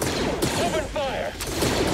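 Dense battle gunfire from Star Wars Jedi Fallen Order on Kashyyyk, blaster shots crackling steadily throughout, with shouted voices of combatants mixed in.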